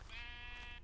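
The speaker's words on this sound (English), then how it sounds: "So next up we have the sheep." A sheep from Minecraft's Battle Mobs mod lets out one short, quiet bleat, a single wavering call lasting under a second.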